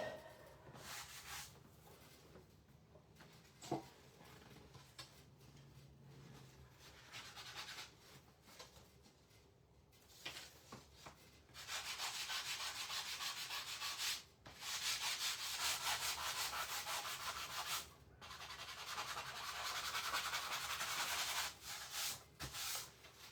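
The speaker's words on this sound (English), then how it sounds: "I'm just going to take my other sander, my Gator sander, and get that out" A wooden Christmas door hanger is worked with power sanders, including a Gator sander, giving a long, steady, rough rubbing roar that stops and restarts several times and grows louder in the later passes, with no talking.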